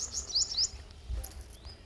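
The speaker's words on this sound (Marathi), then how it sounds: "खूप सारे पक्षी या ठिकाणी त्यांचा आवाज येतोय" Several birds chirp and tweet in short high calls around a tomato farm plot, close and fairly clear over a low background rumble, with no talking.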